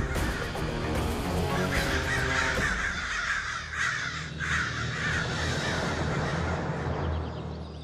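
Several crows caw loudly and repeatedly in a harsh overlapping chorus, close and dense at first, then thinning out toward the end.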